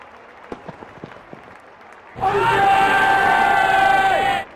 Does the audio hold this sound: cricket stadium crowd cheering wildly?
yes